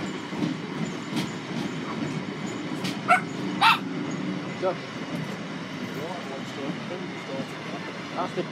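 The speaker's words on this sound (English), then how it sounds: "That's the Bichon Frise." A Bichon Frise barks a few sharp times at a distance over the rumble of a passing train at Rowston North level crossing in Lincolnshire, with people talking nearby.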